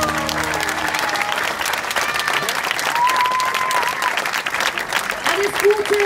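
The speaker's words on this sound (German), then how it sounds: "Lass uns einen Applaus für die geben." A large crowd at the 2018 Katholikentag in Münster applauds loudly and steadily, with voices calling out over the sustained clapping.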